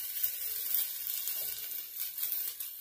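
Onion and garlic frying in a pot for a red cow pea curry, giving a steady, close crackling sizzle with faint bubbling throughout, no voices.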